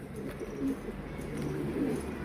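Soft, low cooing of pigeons in a keeper's loft housing around seventy birds, a few gentle throaty calls close by against a faint background hum, with no one speaking.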